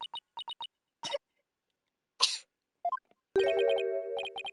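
A character coughs in the video game Ace Attorney: Dual Destinies, one short cough among clipped game blips and text beeps, followed by a sustained chime-like tone, with no voices speaking.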